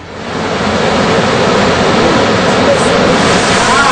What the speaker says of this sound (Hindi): नर्मदा डैम की ऊंचाई 131 मीटर है, लेकिन उसकी ऊंचाई से तकरीबन 9 मीटर पानी ऊपर बह रहा है।